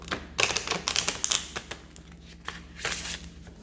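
Crisp riffling and flicking of playing cards being shuffled, several quick bursts close by with brief pauses between.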